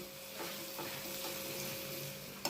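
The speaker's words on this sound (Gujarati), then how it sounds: "ઝીણા ઝીણા દૂધીના કટકા છે તે અંદર આપણે એડ કરી દઈએ એને બરાબર મિક્સ કરી લઈએ" Finely chopped bottle gourd pieces are stirred and pressed in a hot pan, with a soft sizzle beneath a few scraping strokes of the spoon and a sharper clatter near the end.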